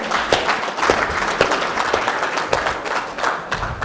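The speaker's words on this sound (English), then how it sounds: "Let's start off with a clap so we can get everyone involved." A crowd claps steadily for several seconds, a dense patter of hands with a few louder individual claps standing out.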